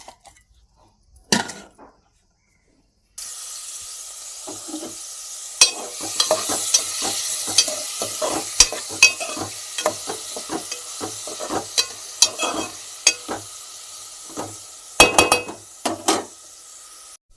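Onions sizzle in hot oil for a tomato and drumstick curry, a steady frying hiss with repeated scraping and clinking stirs of a spoon against the pan, close and clear after a brief quiet start.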